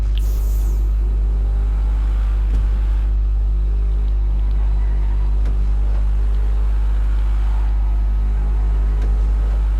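The Adder supercar in GTA drives around a track, its engine a loud, steady low rumble with a strong deep drone and slight rises in pitch as the throttle is worked, no voices over it.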